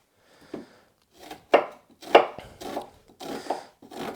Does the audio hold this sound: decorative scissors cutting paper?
no